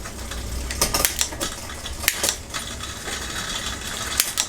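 A spinning bicycle wheel gives off a faint, repeating scrape and rub, with light ticking clicks over a low whir, close by and without speech.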